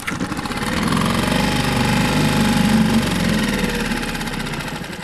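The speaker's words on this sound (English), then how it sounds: "We'll give it a couple of pulls." A Mercury/Tohatsu 4-stroke 4–6 HP outboard motor running steadily after a pull start, a loud, close, continuous rough drone with a rapid mechanical beat and no speech over it.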